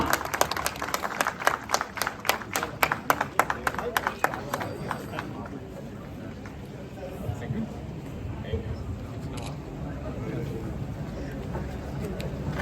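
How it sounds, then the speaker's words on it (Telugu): A crowd at a YSRCP rally claps loudly in quick, dense bursts that fade after a few seconds into murmuring crowd noise and distant voices. "అందరూ గట్టిగా ఒకసారి చప్పట్లు ఉండాలండి"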